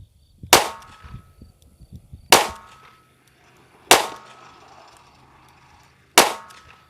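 Four sharp, loud gunshots from a Kimber K6S revolver firing 180-grain handloads over Alliant 2400 powder at 10 yards, spaced irregularly about two seconds apart, each with a short ringing tail and no talking.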